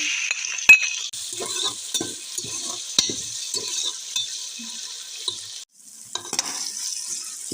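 Tomatoes go into a pot of raisin rice with dried fruit and nuts, giving a steady bright sizzle of frying with scattered spoon scrapes and stirring knocks, a brief pause near the end, and no talking.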